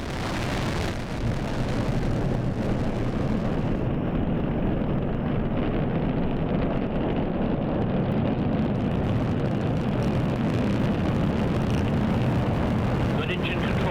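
NASA Orion spacecraft rocket liftoff at dawn, a dense continuous rumbling roar that swells and holds at full loudness, broad crackling noise with wind buffeting, under a launch commentator's voice.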